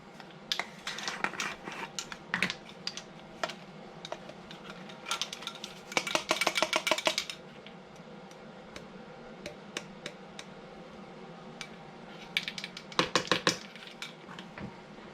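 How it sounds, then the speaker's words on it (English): Whole peppercorns are ground together with spices, producing sparse, close, crunchy cracks and rattling clatter in short bursts, busiest around the middle and again near the end, over a quiet background. "You can add the whole peppercorns in here and grind them as well."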